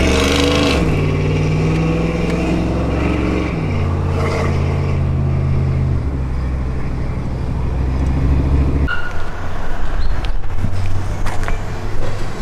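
A 5.3 GMC Sierra pickup with a loose exhaust revs loudly nearby, the engine droning in steady bursts that rise and settle, then a sharper surge of rumbling near the end.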